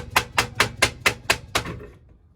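Seven sharp metallic taps from a small hammer on a 12-inch electric trailer brake assembly, in a steady, quick rhythm, close by, then fading into quiet.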